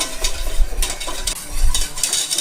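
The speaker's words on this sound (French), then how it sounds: "Je vais y mettre le bouillon que j'ai laissé refroidir. Et je vais mélanger tout de suite pour éviter les grumeaux." A roux is whisked with cooled broth in a pot for a French chicken stew, making brisk scraping and sloshing strokes in uneven bursts, close and fairly loud with no talking.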